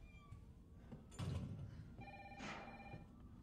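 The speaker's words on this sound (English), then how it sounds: "Go answer that phone." A telephone rings in the Resident Evil remaster video game, two electronic bursts sounding over a low ambient background in a dark mansion setting.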